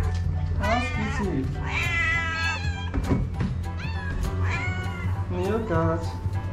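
A mother cat meows repeatedly up close, with long, loud, drawn-out calls in a series over a steady low background hum.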